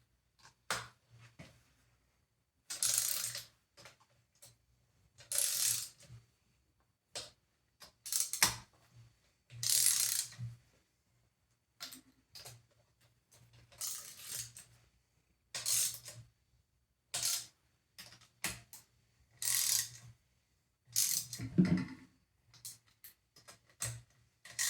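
Ratchet tightening bolts on a Honda CB350 engine during a rebuild, short bursts of rapid clicking repeated many times with quiet gaps between strokes, close and fairly crisp.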